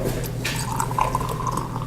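Beer is opened and poured steadily into a glass with a soft gurgling fizz, close up, over a low background hum.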